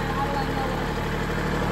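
A tractor engine in a firewood yard drones steadily at around 1500 to 1700 rpm, a close, even, throbbing hum with no clear rise in pitch.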